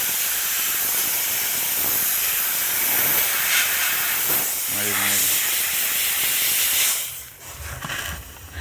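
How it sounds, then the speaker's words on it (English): A handheld steamer hisses steadily and loudly against a C7 Corvette sun visor while a decal is lifted off, with a brief low tonal burst partway through and the hiss thinning toward the end. "Clearly the steamer is the best way to do this"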